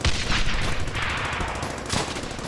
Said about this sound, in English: have Hit him hard! the machine gun team unload on them.